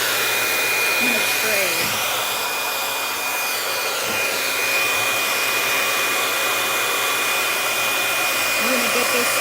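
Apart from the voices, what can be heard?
two hair dryers blowing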